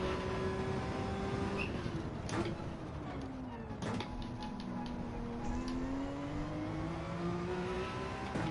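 Porsche race car engine in Gran Turismo 7, a steady droning whine that rises and falls with gear changes throughout, loud and continuous with a voice talking faintly underneath.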